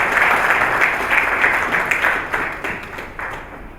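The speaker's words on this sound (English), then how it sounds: "surely we can give Dr. Fred and the panel a better hand clap" An audience at a public investment financing strategy launch applauds the panel. The dense clapping starts fairly strong and fades steadily toward the end.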